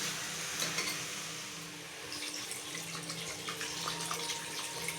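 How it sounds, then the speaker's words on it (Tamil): Water is poured into chicken curry in a cooker, a steady splashing gush running throughout with no talking. "இப்போ இதில் நம்ம தண்ணி சேர்த்துக்கலாம்."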